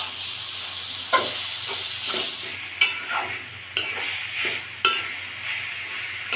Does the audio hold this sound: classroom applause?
no